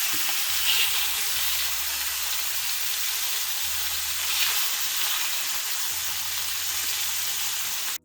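Oil left over from shallow-frying fish for a fish curry hisses and crackles steadily with tempering spices, a close, continuous sizzle with faint stirring scrapes and no voices.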